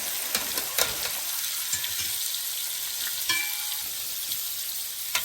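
Scallion, green seasoning and beans fry in a pot for a Haitian rice and beans dish, giving a steady loud sizzle with a few sharp stirring knocks scattered through it and no talking.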